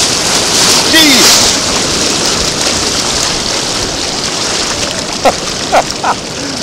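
On a windy, rocky beach, ocean waves surge up the shore in a loud, broad rush of churning water under constant wind buffeting, with a few sharper splashes near the end.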